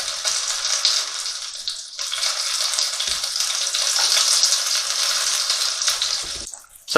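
Chicken pieces fry in a pan for a creamy chicken masala, a loud close sizzle that runs steadily, dips briefly, then fades near the end.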